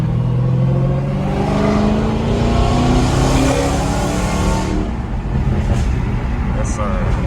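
Dodge Hellcat with stock exhaust and 5-inch tips pulling hard in traffic, a loud, continuous rising engine roar with climbing harmonic sweeps, heard close from inside the car with some voice mixed in.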